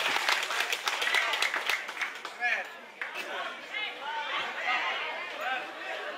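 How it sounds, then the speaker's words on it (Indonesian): Applause at a school launch event, with a crowd clapping loudly and steadily while a presenter's voice and chatter carry over it. "Berikan tepuk tangan yang meriah."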